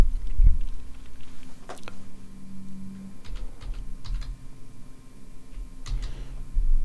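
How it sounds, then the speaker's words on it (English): Rapid clattering keystrokes on a computer keyboard, close and fairly loud, in irregular bursts and short pauses over a low steady hum. "I'm sure you can hear the keyboard in the background."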